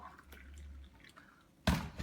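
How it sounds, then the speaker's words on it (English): Hot water, around 80 degrees C, poured into a cup for an AeroPress Clear XL coffee brew: faint drips and small liquid sounds, then a sudden louder splashing pour near the end, close up with no talking. "what I like to do is to just pour the water into the cup"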